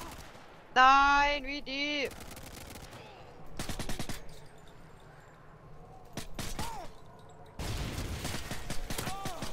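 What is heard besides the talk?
gunfire in Call of Duty Modern Warfare 2 video game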